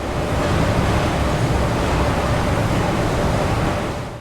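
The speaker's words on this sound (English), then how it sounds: "So first of all, we have factory ambience." Dense, steady industrial roar of factory ambience, a broad continuous rumble with a faint tonal hum running through it, loud and unbroken throughout with no voices.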